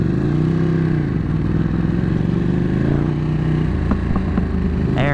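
Motorcycle engine rumbling and revving close by at an evening bike night in Royal Oak, loud and continuous, ending with a sharp, sudden exhaust pop.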